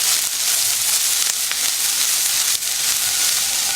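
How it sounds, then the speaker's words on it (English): Diced onions sizzle steadily in hot olive oil, a loud, even frying hiss that holds without a break from start to finish. "we're going to put some diced up onions in there"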